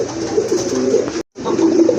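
A pair of Rajgolla pigeons coo in a dense, continuous murmur of soft throaty calls, close and loud, broken by a short silent gap.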